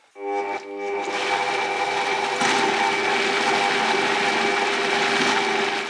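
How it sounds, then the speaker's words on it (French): A blender starts up and runs at a steady, loud, whirring pitch as it purées vegetable soup with fresh parsley and water. There is no talking. "Et ensuite, c'est parti pour mixer tout ça."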